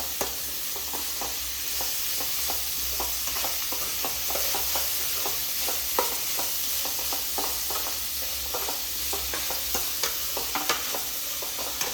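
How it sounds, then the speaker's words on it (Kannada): Fenugreek leaves frying in oil in a pan while preparing batter for dosa and paddu, giving a constant crackling sizzle with frequent small stirring taps and scrapes. "ಮೆಂತ್ಯ ಸೊಪ್ಪು ಹಾಕಿರೋದ್ರಿಂದ ಎಣ್ಣೆಲಿ ಫ್ರೈ ಮಾಡ್ತಿದ್ದೀನಿ."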